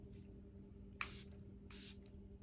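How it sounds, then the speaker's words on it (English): Two short hissing bursts of a face spray, about half a second apart, over a low steady background hum. "I'm going to spray my face again with this"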